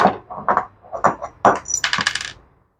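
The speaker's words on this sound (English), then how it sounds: "it's got the Honda style jets, and they just fell out" Small brass Honda-style jets drop out of a Yard Machine lawn mower carburetor with a quick burst of light metallic clinks and rattles, close by and brief, after a few softer handling knocks.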